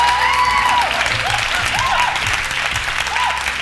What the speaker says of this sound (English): A round of applause to debate too.